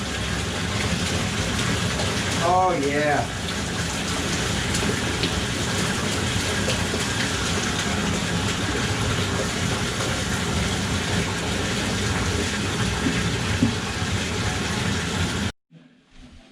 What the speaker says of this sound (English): I'm gonna run the hot water over the top of it, and I'm gonna go and grab the turbo power, and we're just gonna start dumping it in there